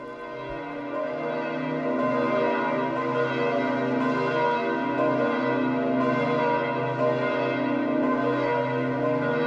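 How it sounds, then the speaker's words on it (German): Church bells of St. Peter's Basilica in Rome ringing at Easter, a loud, sustained peal of overlapping tolls that fills the whole stretch without pause. "den Glocken von St. Peter endet die Live-Übertragung"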